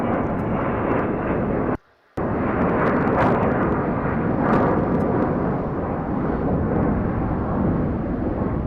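Airliner departing LAX, a loud, steady broadband jet roar close by that fills the whole clip, broken by one brief dropout near two seconds.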